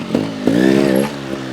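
A GasGas TXT 300 trials motorcycle on a backyard obstacle course gives two quick close blips of its engine, followed by a short rising rev that settles back to a steady idle.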